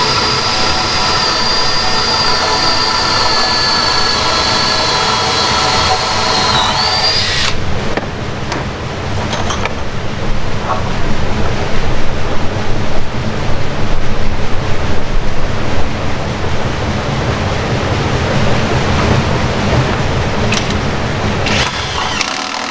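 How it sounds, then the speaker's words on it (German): A power drill whines loudly boring a hole into a wooden window frame, then stops. Steady, rough noise continues after it. "würde jetzt hier das erste Loch in den Rahmen bohren"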